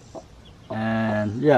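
A mother hen with five newly hatched chicks on a farm gives a close, drawn-out clucking call after a short soft note, while a person talks over it.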